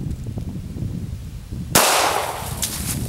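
A gunshot strikes a 2-liter bottle of cola outdoors, a sudden sharp crack halfway through followed by a broad spraying hiss that slowly fades, with low rumbling wind before it.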